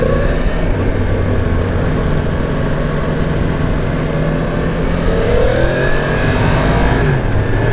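Yamaha MT-10 SP motorcycle with 166 horsepower, in rain mode, pulling at full throttle with a loud, steady engine drone and rising tone, heard close up over constant wind rush.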